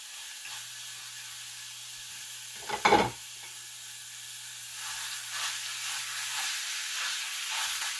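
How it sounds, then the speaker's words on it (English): Hot sausage browning for breakfast burritos gives a steady, soft sizzle across the pan, with a brief louder scrape of stirring near the middle and a faint low hum under it. "Just going to get this browned up for our burritos. Breakfast burritos."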